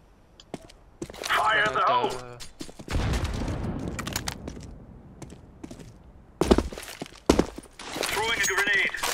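Gunfire in the Counter-Strike video game: scattered sharp shots and bursts with thumps and footsteps, moderately loud in short clusters, while a person talks over parts of it.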